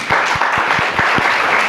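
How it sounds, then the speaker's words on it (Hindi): A live audience bursts into steady applause at a health talk on moringa, dense clapping sustained throughout, loud and close, with no voices over it. "तो मोरिंगा के लिए तालियां।"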